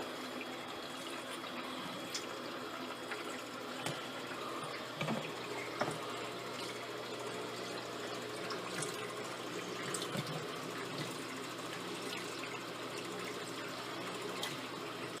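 A Jebao RW-20 wave pump runs in wave 1 mode at about three-quarter speed in a 6-foot, 225-gallon reef aquarium. It makes a continuous low water churn and splash with no talking.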